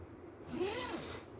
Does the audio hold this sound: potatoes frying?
no